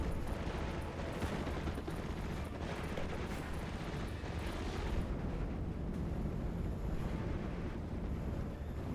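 Gunfire and explosions from two half-tracks in Steel Division: Normandy 44 rumble and crackle continuously as a distant, dense battle wash with no clear separate shots.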